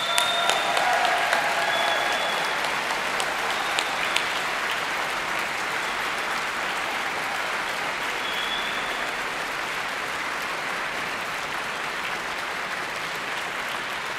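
Graduates at a degree ceremony in Manchester applaud their families and friends, a large hall full of sustained clapping with a few brief whistles and shouts early on, settling into a steady, even roar.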